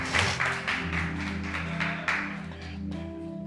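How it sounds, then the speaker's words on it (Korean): A church congregation breaks into applause, a full burst of clapping that gradually thins and fades while sustained keyboard or organ chords play underneath. "박수 한번 쳐주세요."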